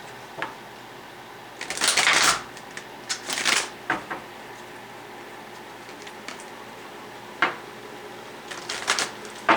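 Tarot cards riffle-shuffled in a few quick bursts, crisp fluttering rattles with short pauses and light taps between them, close up.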